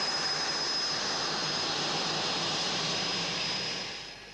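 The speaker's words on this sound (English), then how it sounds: "As Jim taxis out, Mirko returns for a touch and go." A test aircraft taxies out with a steady, loud engine roar and a thin high whine on top. The sound stays constant, then fades slightly at the end.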